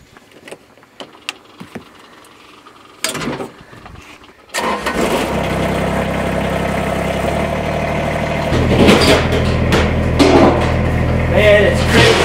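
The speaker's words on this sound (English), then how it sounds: "let's get the tractor running and warming up." A farm tractor cranks with a few clunks and then catches, settling into a steady throbbing idle that grows a bit louder and rougher partway through, close to the microphone.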